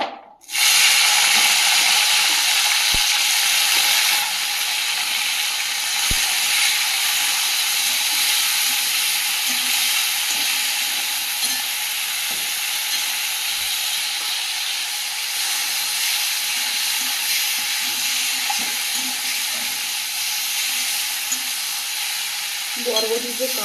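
Long beans fry in oil left over from frying fish, giving a loud, steady, dense sizzle that runs unbroken for the whole stretch, with a few faint utensil knocks underneath.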